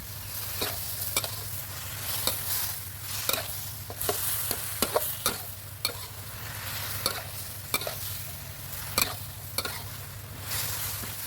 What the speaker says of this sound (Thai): ผัดให้เท่ากันเลยครับผม